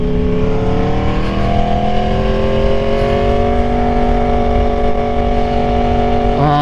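A 2022 Aprilia Tuono V4 roaring while being ridden, its exhaust holding a loud, continuous growl that slowly climbs in pitch as the bike accelerates, close and without talk.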